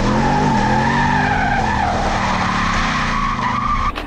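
A Camaro SS muscle car with an 8-speed automatic roars nearby, its engine pitch climbing and dipping as it accelerates and shifts, with a squealing, skidding tire edge throughout.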